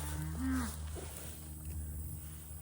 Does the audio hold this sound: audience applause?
no